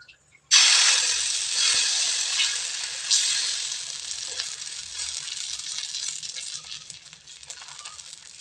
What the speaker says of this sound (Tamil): அடுப்பில் ஒரு தோசைக்கல் வச்சுருக்கிறேங்க. இதில் இப்போ மாவை ஊற்றிக்கலாங்க தோசையா.